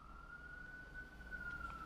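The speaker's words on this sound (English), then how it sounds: "Lovely sirens outside, aren't there?" A distant emergency vehicle siren drifts in from outside, a steady faint tone holding over low traffic rumble, with no talking.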